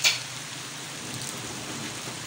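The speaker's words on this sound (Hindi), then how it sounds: "ये देखें जनाब ज़बरदस्त बारिश हो रही है, बहुत तेज़ बारिश हो रही है" Heavy rain after a long dry spell pours down in a dense, steady hiss that stays even from start to finish, with no voices.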